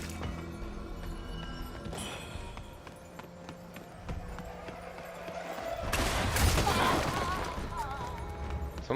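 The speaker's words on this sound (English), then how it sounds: "Someone is shooting outside." Gunfire outside in the action game Wuchang: Fallen Feathers, a loud burst of shots over steady background game sound, with louder crackling near the end.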